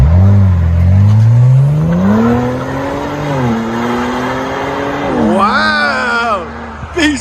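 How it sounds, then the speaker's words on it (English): Kia Stinger GT engine revving loudly, pitch climbing through several rises and dips, then a sharp high-revving burst near the end before easing off, heard close and alone without talk. "So here's a sound clip of a GT2."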